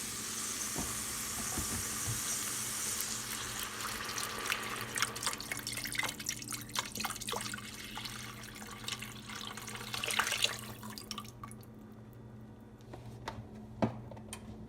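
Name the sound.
pouring vegetable broth into soup pot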